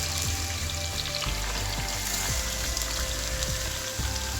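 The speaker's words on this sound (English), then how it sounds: "I'm just going to go ahead and add the onions." Onions sizzle loudly in a hot pan for an egg biryani, a dense steady crackle close up, with a few soft knocks and scrapes of stirring mixed in and no talking.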